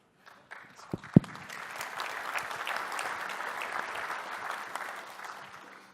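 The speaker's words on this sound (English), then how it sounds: "another big round of applause for these folks" Audience at a Microsoft technology conference session bursts into applause, a couple of sharp claps first, then sustained, even clapping from a sizable crowd that holds steady to the end.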